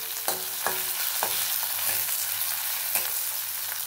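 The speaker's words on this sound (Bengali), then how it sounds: "যে একটু নাড়ি চাড়ি ভেজে নেবো।" Ginger frying in a pan while being stirred, a bright, constant hiss of hot oil close up, punctuated by occasional scraping strokes of a spatula.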